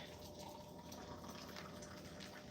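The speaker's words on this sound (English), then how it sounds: "So I'm gonna add my hot water." Hot water poured steadily into a container in a home kitchen, a continuous close splashing stream that runs without pause, no talking.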